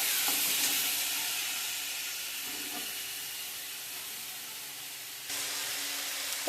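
Ginger and cumin fry in a pan while being stirred, giving a soft, steady sizzling hiss with faint scrapes. It fades slightly midway, then lifts again near the end.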